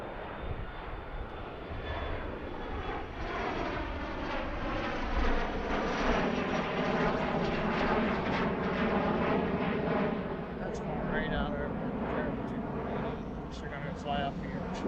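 A Piedmont airliner roars down the runway on takeoff at Philadelphia airport, its jet engines a loud, sustained rumble from start to finish while a voice talks over it.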